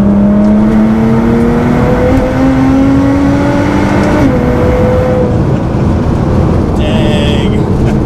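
A Nissan GT-R fitted with a race front-mount intercooler accelerates hard in fourth gear, its engine tone climbing loudly and steadily from inside the car, with a voice talking over it.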